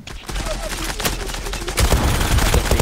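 Rapid bursts of gunfire crackle in quick succession, dense and loud, from automatic weapons including an MPX in the video game Zula, with louder volleys toward the end.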